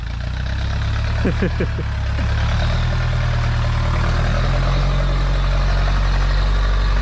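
John Deere tractor with a turbocharged four-cylinder engine idling close by, a steady, loud low rumble that holds even throughout, with a few brief chirps above it early on.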